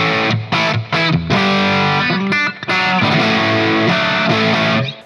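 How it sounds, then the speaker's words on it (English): Electric guitar plays a crunchy, mildly distorted tone through a Black Spirit 200 amp, with sustained chords and short choppy strums separated by brief gaps, loud and close. "So now I've got a crunch tone selected on the Black Spirit 200"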